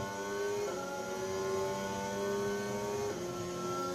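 Williams Formula 1 car in a racing video game, a high whining engine note that holds steady, then shifts pitch as the car passes and changes gear.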